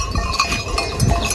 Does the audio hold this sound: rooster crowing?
no